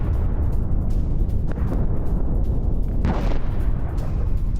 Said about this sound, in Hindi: अलग अलग इलाकों में इजरायली डिफेंस फोर्स की बमबारी।